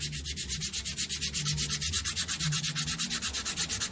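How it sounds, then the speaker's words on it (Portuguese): A carburetor gasket sanded with 220-grit sandpaper wrapped on a small wood block, a steady rhythmic rasping scrub of quick even back-and-forth strokes, close and fairly loud with no talk. "coloquei um pedacinho de madeira para servir de taco e vou dar uma leve lixada aqui, só para acertar"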